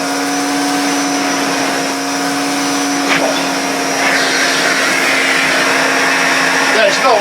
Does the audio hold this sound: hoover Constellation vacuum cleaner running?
yes